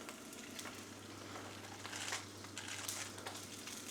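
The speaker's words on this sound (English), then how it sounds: "I'm going to get just a drop of oil in my pan, and we're going to brown all the sausages up" Six sausages browning in a drop of oil in a pan for toad in the hole give off a faint, steady sizzle with soft crackles and pops.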